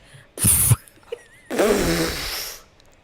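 Two wet, raspy fart sound effects play up close, a short burst followed after a pause by a longer, sputtering one.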